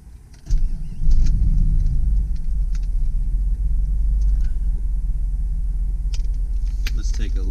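A 1993 Jeep Grand Cherokee Grand Wagoneer Limited with 120,000 miles cranks and fires, then settles into a deep, steady idle rumble, close and loud, with a few faint clicks over it.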